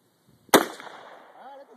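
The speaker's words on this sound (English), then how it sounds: "Jacob shooting the AR15 for the first time" A single sharp AR15 rifle shot fired outdoors, close and loud, with a short ringing decay and a voice speaking faintly afterward.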